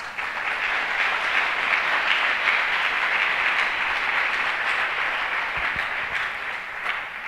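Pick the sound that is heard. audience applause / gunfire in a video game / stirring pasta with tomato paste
audience applause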